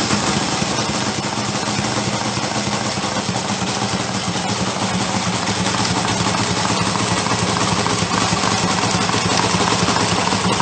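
An experimental six-stroke engine built by combining two-stroke and four-stroke designs runs steadily nearby, a constant loud, buzzing drone with no pauses.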